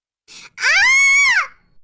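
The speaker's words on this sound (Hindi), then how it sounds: "अनु की चीख सुनकर सभी उसके कमरे में भागे चले आते हैं" A woman's horrified scream in a Hindi horror story, a short rising cry followed by a long sustained shriek, loud and close, with no other talk.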